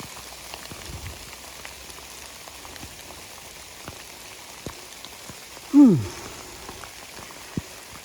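Rain patters steadily on a hiking trail near Damascus, a soft continuous hiss of drops with a brief louder rustle partway through and no talk.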